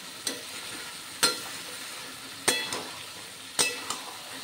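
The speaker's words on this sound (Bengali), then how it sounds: "এবার আলুর সঙ্গে মশলা খুব ভালো করে কষিয়ে নেব, অন্তত মিনিট 5 মতো।" Potatoes frying with spices in a pan, a soft continuous sizzle punctuated by four sharp spoon-against-pan clinks spaced about a second apart, close and without voices.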